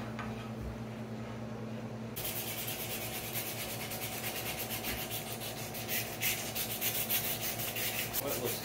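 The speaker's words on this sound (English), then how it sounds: "I've got this rough end of this rasp. I can put some gouges in it and then sand them down" Steel rasp and sandpaper working the rough end of an elk antler tip, gouging and smoothing it in a steady scraping, rubbing rhythm, fairly close and continuous throughout.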